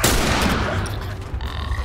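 Gunfire in The Last of Us Remastered, a survival action video game: a loud, dense burst of overlapping shots with a continuous noisy roar that barely eases across the short stretch.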